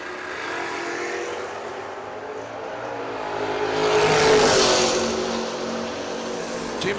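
Drag racing cars launching down the lanes, among them a Mustang, a distant engine roar swelling into a loud pass and then receding, heard over a steady outdoor background.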